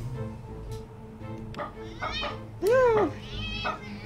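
A cat in the video game A Space for the Unbound gives one short rising-falling meow over a layer of game music and ambience, with a voice talking nearby.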